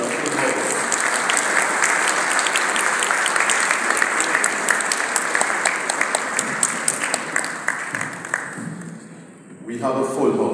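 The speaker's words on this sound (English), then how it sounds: "Can we all start by having you give yourselves a round of applause?" Sustained audience applause from a full house at a morning Justices of the Peace sensitization gathering, dense steady clapping for most of the clip before thinning into scattered claps and a brief lull, then a short burst again.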